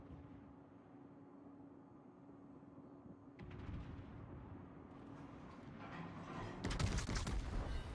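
Main guns of the tier IX battleship Navarin firing in a naval warfare game, heard as heavy booming salvos rolling into a dense rumble, growing louder and harsher toward the end, with no speech.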